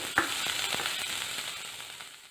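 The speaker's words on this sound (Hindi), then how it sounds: "गार्लिक के साथ साथ इसमें हमने जो अनियन ले रखे थे वो अनियन भी ऐड करेंगे। थोड़ा सा इसको हम स्टर कर लेते हैं।" Garlic and onions sizzle loudly in a pan while a spoon stirs them with a few scraping strokes, the frying hiss close and continuous and tapering slightly toward the end.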